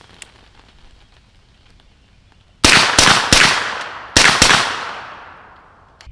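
A suppressed B&T GHM9 pistol-caliber carbine firing UMC ammunition fires five sharp, loud shots in two quick bursts of three and two, each with a short decaying tail.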